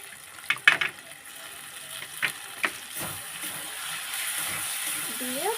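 Potatoes frying in a pan as ground cumin and coriander paste goes in: a few sharp clattering knocks, then a steady, close sizzling hiss that builds and holds.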